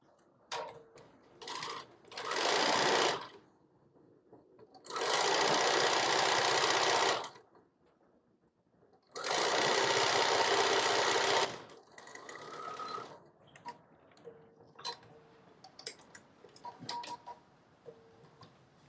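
A sewing machine stitches the short edges of a zipper pouch's exterior panel, running in three close, loud bursts of steady whirring separated by pauses, followed by quieter handling clicks and rustles.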